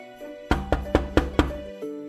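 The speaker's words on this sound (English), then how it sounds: "And when you do hear the knock" Five sharp knocks on a door in a quick, slightly uneven rhythm, loud and close, over a faint sustained musical hum.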